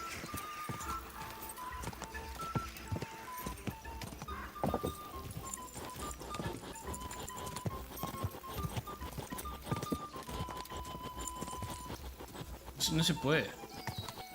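The horse Pebbles gallops in Kingdom Come 2, its hooves clip-clopping in a rapid steady rhythm under ongoing talk, with a short whinny near the end.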